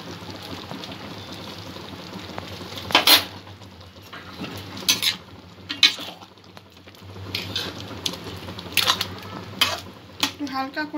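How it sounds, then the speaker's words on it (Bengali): Chicken ghugni with sprinkled garam masala is stirred in a pan, giving several bright metal spoon scrapes and clinks against the pan over a steady low cooking background, with no talking. "একটু হালকা করে মিক্স করে নেব।"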